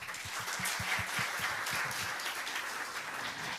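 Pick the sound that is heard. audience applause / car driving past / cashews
audience applause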